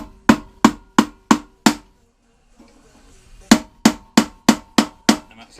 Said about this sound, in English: give it a tap with the rubber side of a mallet